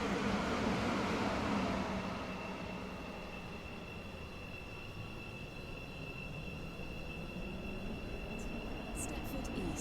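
A metro service train in a video game runs steadily, approaching Stepford Central: a continuous close rumble with a sustained high whine, loudest at the start and easing slightly before building again.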